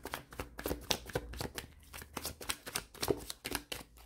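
A deck of oracle cards being shuffled by hand nearby: quick repeated riffles and papery flicks in irregular bursts, crisp and close, with no speech.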